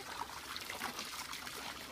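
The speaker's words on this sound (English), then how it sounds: "I poured lots of water" Water pours and splashes continuously, a bright bubbling trickle with no voices over it.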